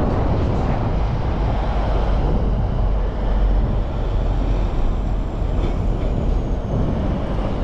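Constant lorry traffic crossing a bridge near Southampton docks makes a steady, heavy low rumble with some wind buffeting, unbroken and with no voices.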